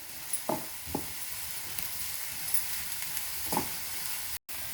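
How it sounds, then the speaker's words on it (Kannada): Chopped onions deep frying in coconut oil give a faint, steady sizzling hiss, with a few soft stirring scrapes and clicks at close range and no speech. "ಈರುಳ್ಳಿನ ನಾವು ಡೀಪ್ ಫ್ರೈ ಮಾಡ್ಕೋಬೇಕು."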